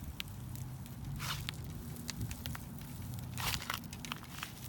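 An apple tree kicked over in a garden, with crunchy, crackling rustles of branches and leaves and scattered snapping impacts, moderately loud and close throughout.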